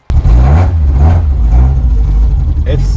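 A 4A-GE-powered Toyota KP60 Starlet with open throttles fires up loud and close, a rough, throaty engine rumble holding at high volume throughout, with a voice briefly audible.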